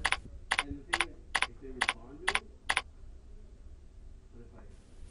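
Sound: typing a group name on a computer keyboard

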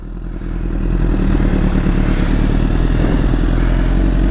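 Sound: motorcycle caught on rider's foot, clattering

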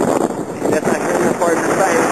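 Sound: wind blowing on mountain top

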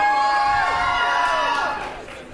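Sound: crowd cheering for Alyssa

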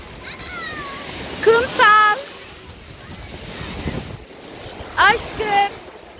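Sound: sea waves at the beach

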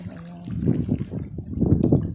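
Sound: water flowing in irrigation canal

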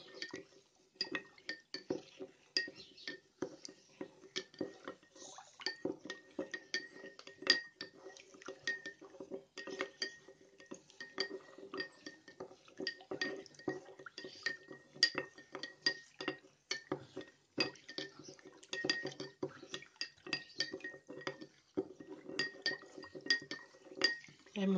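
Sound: stirring salt into warm water with clinking

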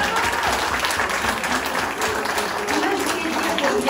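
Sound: audience applauding at cosplay contest

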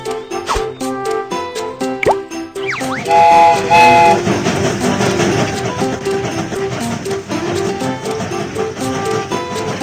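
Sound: train starting off in a Babybus video game

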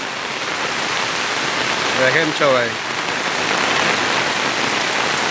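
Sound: heavy rain on umbrella

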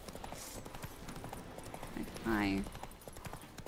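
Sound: horse hooves in video game The Witcher 3

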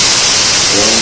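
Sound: espresso machine steam wand purging jets of steam

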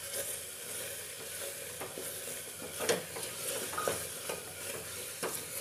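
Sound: tomatoes mashed and cooked in a pan of masala

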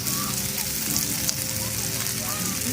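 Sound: grilled pork sizzling at a campsite

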